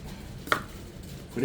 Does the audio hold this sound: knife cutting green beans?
yes